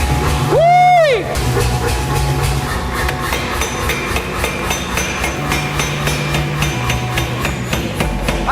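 A Stanko power hammer forging metal in a workshop: one loud ringing blow near the start, then a steady, busy mechanical thumping and clatter from the running machine throughout.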